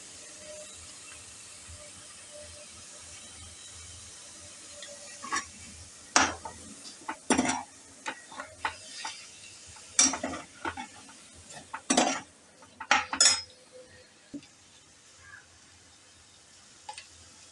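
A spoon stirs condensed milk in a pan for malai laddu, giving irregular scrapes and clinks against the metal that grow busier and louder after a quiet start, with a soft sizzle underneath.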